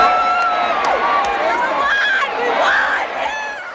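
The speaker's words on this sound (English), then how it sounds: "The crowd was growing bigger by the second, everyone here to celebrate a hard-fought victory." A large crowd of Gators fans packs a few city blocks to celebrate a national championship, cheering and shouting continuously in a dense, roaring wash of voices.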